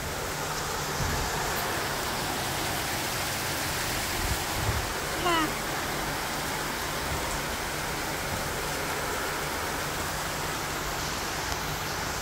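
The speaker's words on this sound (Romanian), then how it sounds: "E ploaie de vară, n-are cum să țină mult." Summer rain falls in a steady, even hiss at a seaside spot with a light local wind, continuous and fairly close, with faint voices briefly in the background.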